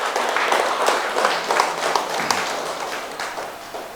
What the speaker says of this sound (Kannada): ಪತ್ರಿಜಿ ಅವರಿಗೆ ಒಂದು ಸಾರಿ ಜೋರಾಗಿ ಚಪ್ಪಾಳೆ